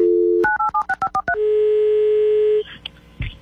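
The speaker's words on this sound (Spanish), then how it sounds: "Este es un teléfono público" Public telephone handset: a steady dial tone, then a quick run of about eight DTMF keypad beeps, followed by a long single tone and faint clicks of the line connecting.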